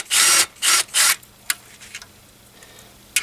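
Three strong bursts of whirring from a power driver backing out Phillips head bolts on a Yamaha XT250 motorcycle, followed by a few faint metallic clicks and taps.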